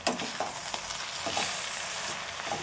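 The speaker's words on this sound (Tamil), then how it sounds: "கிண்டி விட்டு நல்லா சுண்டுற வரைக்கும் நல்லா வதங்கட்டும்" Drumstick leaves being stirred and sautéed in a pan for poriyal, a soft, quiet sizzle with a few gentle scraping strokes of the spatula.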